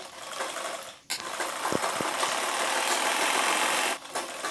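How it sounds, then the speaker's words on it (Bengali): A sewing machine stitches a bra-cut blouse in a long, steady, close-up run of buzzing with a brief pause near the start and a slight drop near the end. "তো সেলাই করে নিচ্ছি আমি এরকমভাবে, পুরোটা আমি সেলাই করে নিচ্ছি"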